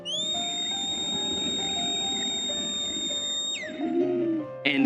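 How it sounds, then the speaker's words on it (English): A long, steady high whistle from Superman holds for several seconds and then bends downward, over a low background rumble, with a brief rising sweep at the end. "making the whistle he's about to emit especially painful"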